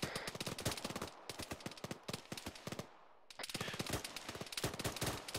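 Sustained squad gunfire in the ArmA 3 military game: dense, rapid bursts of rifle and machine-gun shots from several weapons, loud and close, with one short pause before firing resumes.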